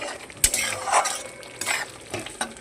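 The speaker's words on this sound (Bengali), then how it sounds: "এখানে ডিম কটা দিয়ে দেবো, দিয়ে একটু ডিমটা মাখিয়ে নেব।" Eggs being mixed by hand or spoon in a bowl, with a few short scraping and stirring strokes spaced irregularly across a couple of seconds, close and fairly quiet, no voices.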